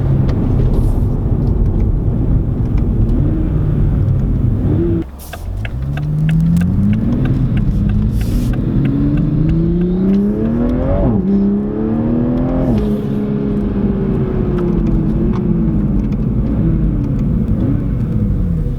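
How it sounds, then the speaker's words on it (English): A 2021 Toyota Supra fitted with an MST intake revs repeatedly, rising engine pitch sweeping up and falling back with a brief lift-off dip, loud and close, carrying strong intake roar and turbo whir throughout. "there's much more intake sound"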